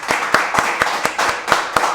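Sharp hand claps ring out in an even, steady rhythm during a casual talk-show chat, roughly four or five per second and close to the microphone.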